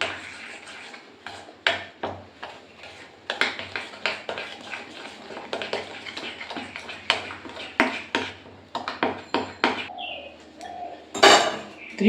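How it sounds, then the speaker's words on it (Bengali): Metal tablespoons clink repeatedly against a bowl as sugar is spooned in for a steamed rice cake, with a series of sharp close taps and scrapes, then a brief louder rattle near the end. "ফোর টেবিল স্পুন দিলাম চিনি তাহলে ফোর টেবিল স্পুন চিনি দিলাম"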